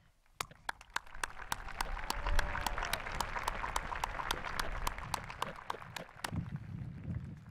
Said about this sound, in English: Let's applaud their daily commitment to us.